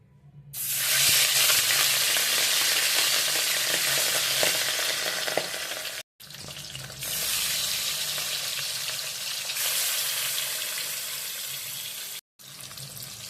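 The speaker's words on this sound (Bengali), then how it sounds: "তেল গরম হয়ে গেছে এবার আমি মাছগুলো দিয়ে দেবো" Marinated katla fish pieces drop into hot oil and fry in a pan over a gas flame, a loud, dense, close sizzle that starts abruptly and roars steadily, cut by two brief breaks, with no speech.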